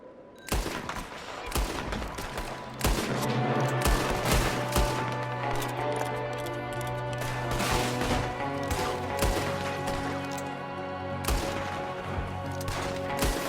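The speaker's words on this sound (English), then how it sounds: "There's another one shooting from the window." Enemy gunfire in Red Dead Redemption 2: a sustained, loud barrage of sharp shots and cracks, dense and overlapping for over ten seconds, with a steady tonal hum of game music or ambience underneath.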